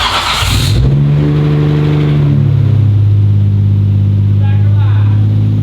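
A Nissan Skyline GT-R, just fitted with a new battery, starts up: a short loud burst as the engine catches, then a steady, deep idle rumble that holds close and loud to the end.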